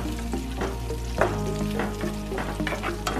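Two or three green chillies sauté in a pan for honey chilli potato, giving a steady sizzle of frying with intermittent scraping stirs of a utensil against the pan.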